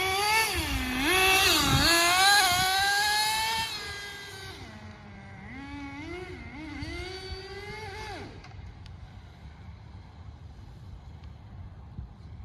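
High-pitched nitro engine of a HotBodies Tornado on-road RC car screaming at full throttle, rising and falling as it passes and accelerates, loud at first, then fading as the car moves off, cutting out near eight seconds.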